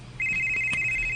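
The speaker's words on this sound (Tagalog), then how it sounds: "may bagting ang cellphone" A cellphone rings with a steady high electronic tone held for about a second, fairly quiet against a low background hum, with no talking over it.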